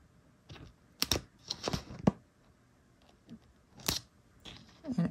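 Scissors snip through a diamond painting canvas to remove a corner, with sharp, irregular cuts and crunchy clips spaced across a few seconds, close and fairly quiet.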